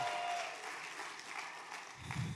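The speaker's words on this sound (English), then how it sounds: "we'll see if we get that same applause at the end of today's message" An audience in a church applauds, a dense, steady wash of clapping that holds evenly for a couple of seconds before thinning at the end.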